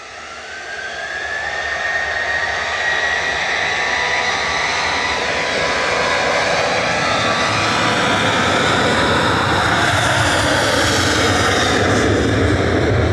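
Jet airliner taxiing out at Manchester Airport, its engines whining steadily and loud throughout, with a rising tonal whine and broad roar that grows slightly stronger over time; no talking.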